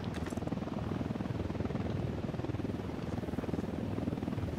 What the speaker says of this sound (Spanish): Pues a ver que viene el helicóptero.